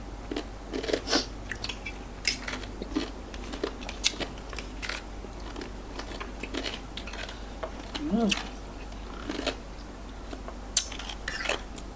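Close crunchy chewing of star gooseberry salad with crispy fish, with irregular sharp crunches and bites scattered across the clip over a quiet background, with faint murmuring in places.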